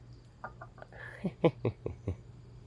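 Chickens cluck in a short run of close, irregular calls over a steady low hum, a few louder squawks clustered near the end.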